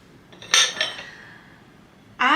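Traditional French ceramic café au lait bowls, 16-ounce size, clink together as they are handled in a kitchen cupboard: a cluster of bright, ringing knocks, a quiet pause, then another resonant clink, close and fairly loud.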